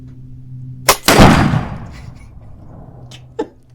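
Outdoors, a sharp gunshot crack is followed a split second later by the loud, booming blast of a Firebird 65 exploding target, which rumbles and decays over about a second, with a couple of faint pops afterward.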